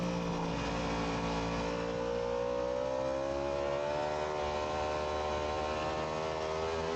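A Yamaha R1 racing motorcycle screams along a race track straight at Rijeka, its engine note climbing steadily as it accelerates hard through the gears, loud and continuous with no talk.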